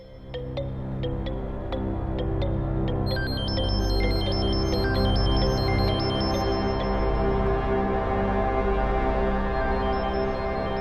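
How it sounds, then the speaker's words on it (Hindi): A high electronic ringtone melody chirps in stepped tones, starting a few seconds in and repeating over a loud, steady low hum. "फोन की आवाज आ रही है।"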